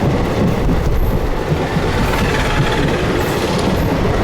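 Indian passenger train rolling along the rails on a long-distance run toward Delhi, a steady, loud rumble of wheels and carriage noise filling the whole stretch without a break, heard from inside the coach.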